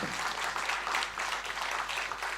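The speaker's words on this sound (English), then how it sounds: "please give them a warm round of applause for undertaking this initiative" Warm applause from an audience at a media launch event for a charity cycle tour, steady dense clapping that carries on throughout without pause.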